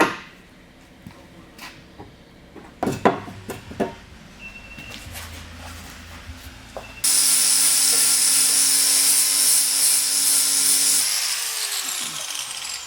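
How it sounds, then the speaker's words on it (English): A power sander grinds rusty metal on a Mk2 Golf wheel arch, a loud, steady, hissing roar that starts abruptly after a few seconds of scattered knocks and handling clicks, then eases slightly toward the end. "Start sanding it back"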